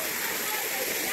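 A waterfall on Mad River roars as a dense, steady broadband rush, loud and close, with no breaks.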